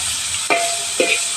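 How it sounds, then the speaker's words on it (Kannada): Moringa drumstick pods fry in a pan, a constant close sizzle with two quick scraping stirs as the pods are turned. "ಇದಕ್ಕೆ ಇನ್ನೊಂದು ಚೂರು ಫ್ರೈ ಆಗಲಿ"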